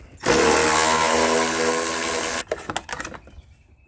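A power tool rips bolts out of a 1.6L Ford Fiesta engine in one loud, continuous whir lasting about two seconds, then stops. A few short clanks and rattles follow.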